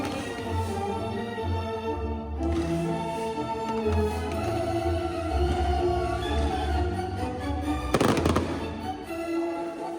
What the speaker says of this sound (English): A firework display unlike anything I've ever witnessed.